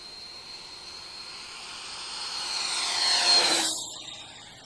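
A Freewing foam RC F-16 jet flies past, its thin whining ducted-fan hiss swelling as it approaches, peaking loudly overhead, then fading quickly as it pulls away.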